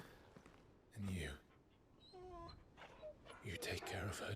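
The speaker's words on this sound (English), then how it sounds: "Oh, it's her dog anyway." A dog in the Final Fantasy 16 video game lets out a short whimper and soft whines, heard between quiet stretches of in-game dialogue and music.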